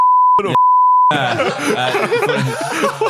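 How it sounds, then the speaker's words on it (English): A pure censor beep tone sounds twice in quick succession to bleep out a swear word, followed by snickering and chuckling laughter. "It's getting harder to beep out, I'll be honest."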